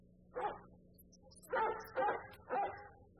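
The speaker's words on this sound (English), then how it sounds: "A dog barking." A dog barks four times, a single bark and then three in a quick run, moderately close and fairly quiet, with no talk over it.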